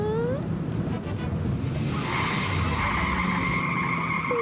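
Cartoon car with failed brakes skidding in a long, continuous screech that rises partway through, loud and close, with a brief squeal-like sweep at the start and end.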